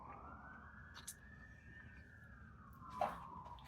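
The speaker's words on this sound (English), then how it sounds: "Whenever they coming out, they throw the siren on, let everybody know to get out of their way." A fire engine siren from a nearby firehouse wails in a single long rising and falling tone, heard at a distance under faint background noise, with a brief sharper burst near the end.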